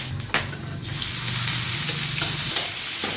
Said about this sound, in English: You need to fry these. So once they start popping, you can add in your chopped onions.